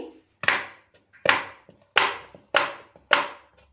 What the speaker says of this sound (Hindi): इसमें इस तरह से कट लगा लेंगे, तो जिसके उधर हो सके इसे बारीक चॉप कर लेंगे।